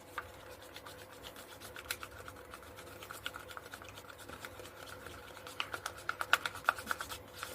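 Acrylic paint mixed with Floetrol is stirred in a container, giving soft, quiet scraping and rubbing sounds that repeat irregularly and grow a little busier near the end.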